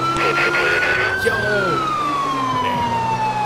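Police car siren in the video game GTA 4 with the LCPDFR mod, a loud continuous wailing tone that rises and then slowly sweeps down over steady traffic noise.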